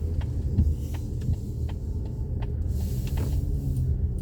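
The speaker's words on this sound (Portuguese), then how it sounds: "Bastante carros aqui." Cars driving by on a road on a cloudy, rainy day, a steady low traffic rumble with passing vehicles, fairly close and continuous, with no one talking.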